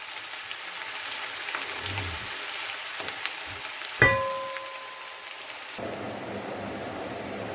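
Onions sizzle in hot oil with mutton in a pot, a steady crackling hiss running throughout, with a sharp clatter midway and the frying growing louder and denser toward the end.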